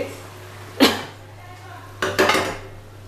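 Chunks of ash gourd (chal kumro) clatter into a metal pan for a mustard-pumpkin curry, two distinct knocks and scrapes about a second apart, close and clear over a steady low hum.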